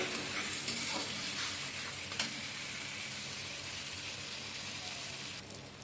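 Food fries in goat fat in a pan, a loud, dense, even hiss of hot fat that runs steadily throughout, with a few faint stirring taps and no talking.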